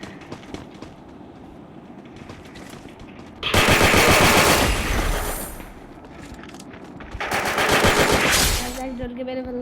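Two long bursts of rapid automatic machine gun fire from a shooting video game, loud and dense, separated by a quieter stretch of game sounds, with a voice talking faintly now and then.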